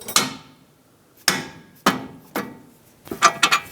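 Steel hammer blows knock the strut bolts out through the steering knuckle on a 2013-2020 Nissan Pathfinder front suspension. Three evenly spaced loud single strikes are followed by a quick cluster of several more, each ringing briefly.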